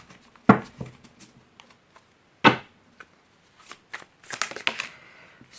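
Tarot cards being shuffled and laid out by hand, with a few sharp riffles and slaps separated by quiet pauses, then a cluster of quicker card flicks and taps near the end, close and fairly soft.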